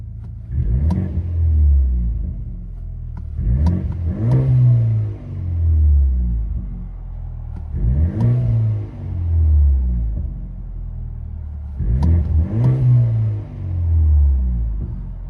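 A 2017 BMW X3 with a 2.0L turbo engine and straight pipes revs in four loud, rumbling bursts heard from inside the cabin, each rising and then falling back, with no talk over them.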